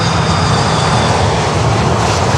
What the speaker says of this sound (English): CF6 power, Iberia from Madrid.